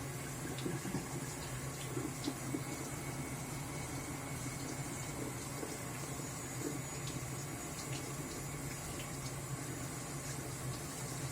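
Tap water runs steadily while a conger eel is rinsed under it, giving a soft, continuous hiss and splash that stays faint and even from start to finish.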